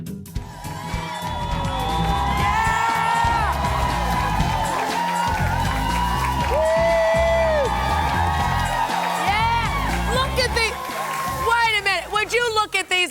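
A studio audience of women cheers and whoops with pom-poms on a talk show, a loud sustained crowd din mixed with music and excited shouting.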